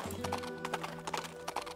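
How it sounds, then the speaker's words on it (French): Horse hooves clip-clop in quick, uneven bursts in the video game Princess Peach: Showtime!, with a few sharp accented steps over a soft melodic background tone and no speech. "Quoi, attendez, on va vraiment avoir un cheval ?"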